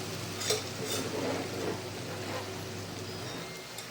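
Urad dal being added and stirred into masala gravy in a pan, a soft continuous sizzle with a few light scraping and stirring clinks near the start, close and moderately quiet.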